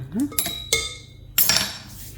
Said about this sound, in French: je mets tous les ingrédients secs ensemble. Et on va mélanger un petit peu ça